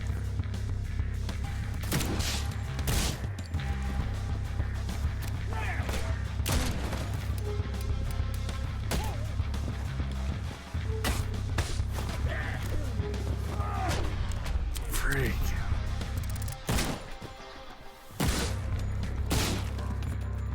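Bursts of video game gunfire crack and boom repeatedly over a dense, continuous background of in-game noise, with a few brief sharp shots standing out and occasional talk mixed in.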